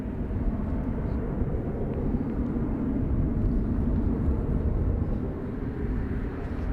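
Ryanair jet at Dublin Airport, bound for Stansted, producing a broad continuous low rumble that stays fairly even from a distance, with no voices over it.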